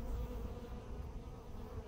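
Honey bees hum around a swarm, where some perform a waggle dance, making a dense, continuous close buzz that holds steady throughout with no voices.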